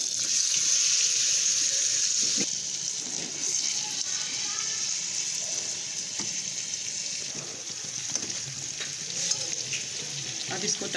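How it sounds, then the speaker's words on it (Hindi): Chicken fries in butter in a pan, giving a steady, fairly quiet sizzle with occasional stirring clatter and soft spatters throughout. "इसी बटर में ये चिकन को हमें फ्राई करना है।"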